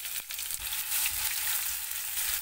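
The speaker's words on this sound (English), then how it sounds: "roast garlic in the oil for 1 minute" Crushed garlic frying in oil with mustard, cumin seeds and dried red chillies gives a steady, bright sizzling hiss that runs without a break, close and fairly loud.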